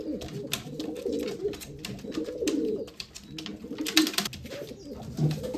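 Pigeons in a loft coo steadily and close by, soft throaty calls overlapping in a continuous murmur with occasional rustles and wing shuffles.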